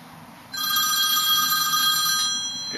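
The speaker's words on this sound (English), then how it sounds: "let's just wait until my phone stops ringing." A telephone rings loudly and steadily for about two seconds, with a bright electronic bell tone starting abruptly after a brief quiet start.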